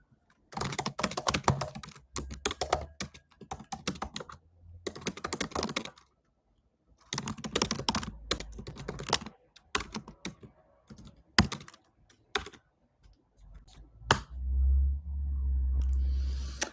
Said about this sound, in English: I'm just going to type something here.